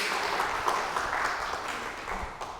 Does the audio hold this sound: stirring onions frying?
no